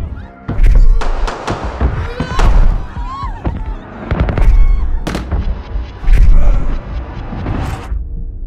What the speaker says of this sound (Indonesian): adu baku tembak antara mereka pun tidak terhindarkan